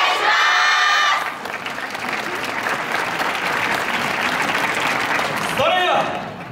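An audience applauds and cheers at a yosakoi dance performance in Kyoto, a dense, steady wash of clapping that runs for several seconds. A voice speaks at the start and again near the end.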